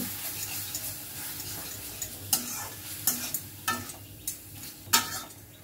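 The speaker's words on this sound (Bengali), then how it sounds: "দিয়ে সব কিছু আবারও ভালো করে মিশিয়ে নিচ্ছি। অনবরত কিন্তু নাড়তে হবে।" Chickpea spice mix with chopped tomato is stirred in a pan, giving a soft frying sizzle under repeated sharp scrapes and taps of the spoon at an uneven rhythm, close and fairly quiet.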